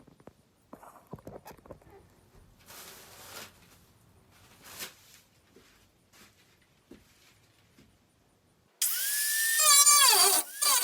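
A power tool whines loudly as it cuts through the metal wall of a van for a bunker window install, a harsh burst near the end following quieter handling noises.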